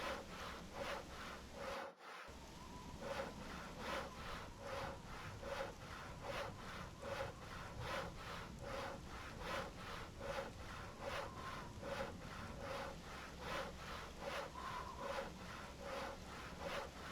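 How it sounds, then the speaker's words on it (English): In the game Voices of the Void, a hacksaw works through a big wooden crate, sending out even, rhythmic rasping strokes about twice a second that keep a steady pace throughout, close and clear, with a short break near the start. "apparently I can hacksaw the big crates"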